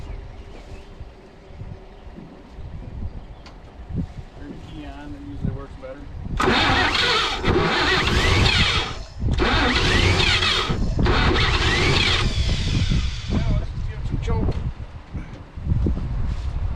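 A carbureted engine primed with startup gas cranks and catches in several loud bursts, each a few seconds long and broken by short pauses, after a quieter stretch of low background noise.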